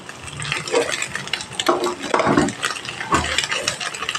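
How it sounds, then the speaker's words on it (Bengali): Omelette pieces fry in a pan while a spatula turns and scrapes them, making loud close scraping and irregular clatter over a sizzle. "এই খন্তির সাহায্যে আমি ঠিক এইভাবে পিস করে করে ভেজে নেব"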